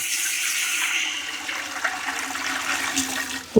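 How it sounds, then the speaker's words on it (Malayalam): Water pours steadily into a pot of chicken pieces for soup, a continuous close rushing splash that lasts a few seconds and ends with a light knock. "ചിക്കൻ മൂടാവുന്ന രൂപത്തിലുള്ള വെള്ളം ഒഴിക്കാം."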